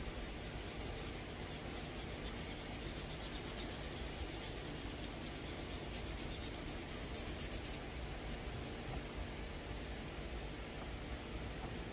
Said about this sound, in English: you can just sand by hand